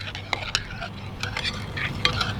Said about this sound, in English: I'm just gonna give that a good mix it all in good.